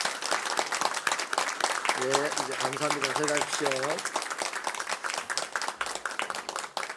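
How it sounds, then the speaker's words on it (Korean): A church congregation applauds during a Sunday worship service in a steady, dense wash of clapping, while a voice speaks over it and a short sung or chanted phrase rises in the middle. "한 번 더 우리 박수하겠습니다."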